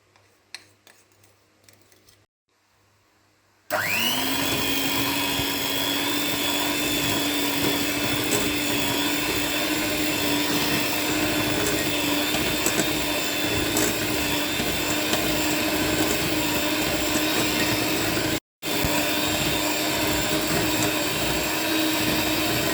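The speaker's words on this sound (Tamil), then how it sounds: "இந்த சீனிலாம் கரையிற வரைக்கும் கொஞ்ச நேரம் இதை பீட் பண்ணிக்கோங்க" An electric hand beater churns eggless gingerbread cookie dough with sugar, its motor starting after a few quiet seconds and then whirring loud and steady, with one brief cutout near the end.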